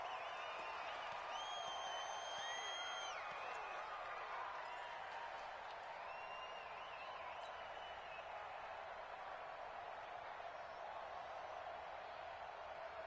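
Steady stadium crowd roar from a PS4 football video game, a dense continuous wash of cheering and murmur with whistles and brief shouts over it, filling the whole stretch at an even level.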